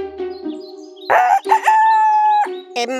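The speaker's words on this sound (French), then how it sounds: "En la voyant, le coq se mit à chanter." A rooster crows a long, loud cock-a-doodle-doo in a farmhouse garden, with a couple of short harmonic calls before it and a brief clipped call after, heard alone with no talk.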